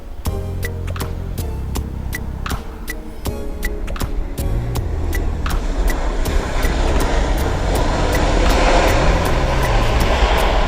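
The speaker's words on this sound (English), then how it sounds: "And we have American Airlines just landing" An American Airlines jet landing at LAX produces a rising, broad engine roar that swells steadily and stays loud, with a rhythmic clicking near the start and no talk.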